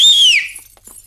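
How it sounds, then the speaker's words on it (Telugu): A person whistles a single bright note in a comedy film scene. It is loud and close, sliding steadily downward for under half a second, then fades into quiet. "ఈ విజిల్ ఎవరికి?"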